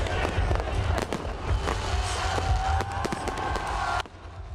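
Midnight New Year fireworks burst in a dense, irregular string of sharp bangs and crackles over a murmuring crowd, with voices mixed in.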